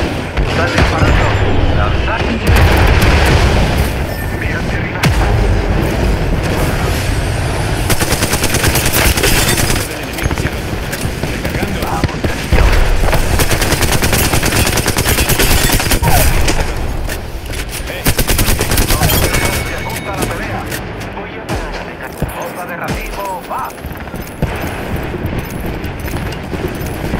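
Heavy, continuous automatic gunfire in an Apex Legends battle, loud dense bursts and booms going on nearly without pause, mixed with voices speaking over the shooting.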